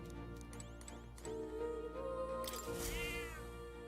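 A cat meows in the fantasy role-playing game Metaphor: ReFantazio, a short rising-and-falling call near the end over a quiet bed of game music, with a few faint ticking clicks earlier.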